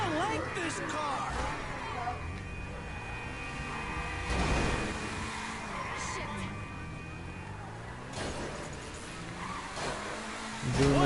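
A car in a PS4 game drives and revs with a steady, fluctuating engine drone, surging in places. Someone talks loudly over it throughout.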